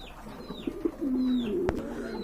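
A pet pigeon coos at close range in a drawn-out, throaty call of steady pitch lasting about half a second. Shorter soft calls come before it and a sharp click follows, with no talking.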